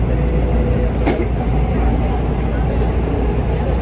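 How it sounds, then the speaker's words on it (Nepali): Inside a moving passenger train, a steady low rumble and rolling rattle continue throughout, with faint background voices mixed into the constant noise. "रेलको यात्रा गरिरहेको छ साथीहरू"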